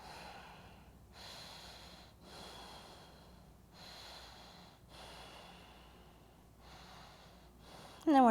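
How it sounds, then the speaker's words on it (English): Slow, steady breathing in a wide-legged yoga forward fold, soft whooshing inhales and exhales repeating about every second or so, close and quiet, with no talk. "And just breathe."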